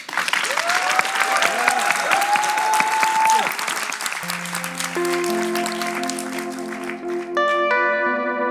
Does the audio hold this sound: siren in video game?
no